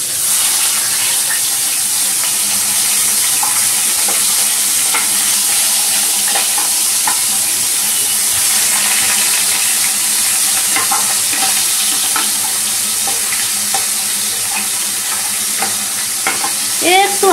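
Basa fish pieces sauté lightly in a hot pan, giving a loud, steady sizzle with faint crackles and spitting throughout and a small clink near the end.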